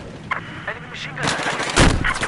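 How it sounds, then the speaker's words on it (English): Gunfire in Battlefield 4 multiplayer, with scattered shots giving way to a dense, loud burst of sustained automatic fire near the end, mixed with other battle noise and faint voices. "Enemy machine gun."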